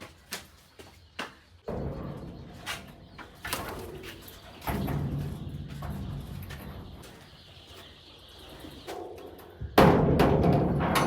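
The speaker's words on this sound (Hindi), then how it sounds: "कबूतर आजकल बांध रखे हुए हैं" Pigeons kept in a room for the breeding season coo in soft repeated bursts, with wing flaps and knocks scattered between the calls.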